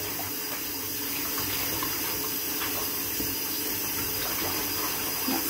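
Steady broadband rush of water running from a tap into a sink while doing dishes, continuous and fairly close, with no voices.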